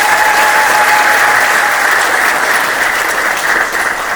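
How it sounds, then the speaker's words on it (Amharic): Sustained applause from a church gathering's audience, a dense, steady clatter of many hands that carries on without a break, close and loud throughout. "የመጨረሻ ጭብጨባ አባታችን"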